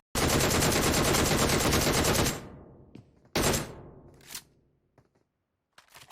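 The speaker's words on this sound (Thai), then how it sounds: "ปืนที่เขาเล่นเนี่ย ก็น่าจะเป็น DP อัปเกรดนะครับ" A DP machine gun in PUBG Mobile fires a sustained, rapid automatic burst of a little over two seconds, then a shorter burst with echoing tails, loud and close with no talk.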